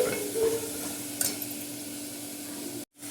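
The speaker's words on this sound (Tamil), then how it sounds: "இப்போ இது நல்லா வதக்கிக்கலாம்." Soaked white chickpeas being sautéed and stirred in a pan for chana kurma, a steady low sizzle with a brief scrape, cutting off abruptly near the end.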